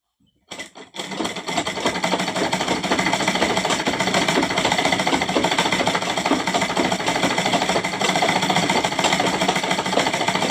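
A sewing machine runs a steady, fast continuous stitch along a pillow cover seam after a couple of brief starts, loud and close throughout with no pauses.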